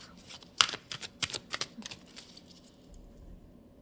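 Tarot cards being shuffled and drawn by hand, a quick run of crisp riffling flicks and slaps that close up, then fade into quiet room tone, with no talking.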